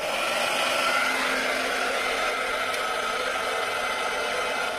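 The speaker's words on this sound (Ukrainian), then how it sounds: "Є фен, вмикаємось." A hair dryer, about 1.5 kW, powered from a Goal Zero Yeti 1000X portable power station, blows steadily with a constant whooshing whir, close and loud, without any pauses.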